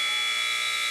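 An end-of-quarter buzzer at a high school basketball game, Saint Ansgar at Central Springs, blares as one loud, steady, continuous electronic tone.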